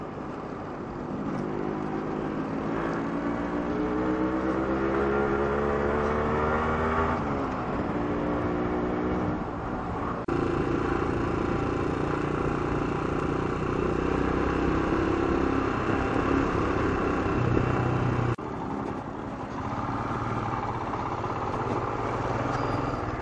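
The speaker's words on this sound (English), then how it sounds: "We're coming to the busy traffic now." Busy village road traffic heading into town, with motorcycles and other engines droning continuously close by, pitch rising and falling as vehicles accelerate and pass over a steady roar.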